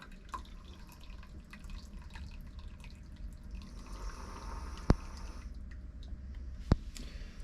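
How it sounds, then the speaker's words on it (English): Coffee poured slowly from a French press, the grounds held back, giving a quiet, steady liquid trickle with a couple of sharp clinks. "But if you pour it nice and slow, most of it will stay there."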